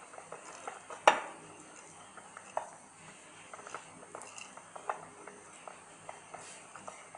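Dough for stuffed-date cross buns is mixed in a bowl. A sharp utensil clink opens it, followed by soft, irregular scraping and tapping of a spoon against the bowl, faint and close, with no voices.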